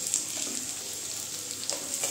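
Potatoes and tomatoes frying with onions in a pan for Bengali masala khichdi, a steady close hiss of sizzling oil with faint stirring clinks, no voices.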